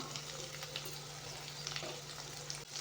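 Onions and garlic sizzling in a pan with salt while being stirred, a steady close frying hiss with light scraping, no talk.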